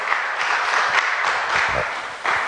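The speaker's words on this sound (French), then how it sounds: "clap your hands and give glory to God" A church congregation claps their hands in praise, a brief burst of dense, moderately loud clapping from a crowd in a worship hall.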